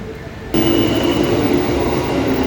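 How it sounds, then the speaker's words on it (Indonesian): An electric commuter train, a new CRRC SFC120-V unit, rolls into Gondangdia station at rush hour: a sudden loud rise of rumbling wheels and motor hum with a steady whine, close and continuous. "Sesaat lagi KRL-nya akan segera masuk di stasiun Gondang Dia."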